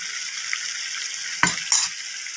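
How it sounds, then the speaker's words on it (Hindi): Chicken with radish cooking slowly in a pot, giving a soft, even sizzle and hiss throughout, broken by two brief sharp clinks near the middle. "अभी पक रही है धीरे धीरे"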